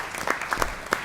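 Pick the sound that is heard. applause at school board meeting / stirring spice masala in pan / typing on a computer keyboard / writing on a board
applause at school board meeting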